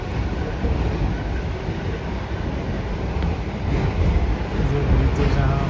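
A Russian passenger train rolls along with a steady broadband rumble and rushing noise, loud and continuous throughout, with no clear speech over it.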